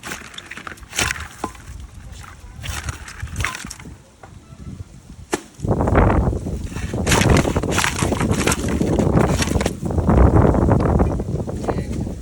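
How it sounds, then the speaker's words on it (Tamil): Strong wind gusts buffet the microphone outdoors in a rushing, roaring noise that swells and surges, with brief knocks and rattles, and grows louder and steadier in the second half. "காற்று பயங்கரமாக அடிக்குது."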